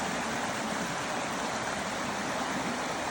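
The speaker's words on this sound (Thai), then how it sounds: "เป็นลำธารเล็ก ๆ เลยนะคะที่จริงเป็นน้ำหิมะละลาย" A small stream of meltwater from thawing snow in Norway rushes steadily, a dense, continuous wash of flowing water close by with no voices.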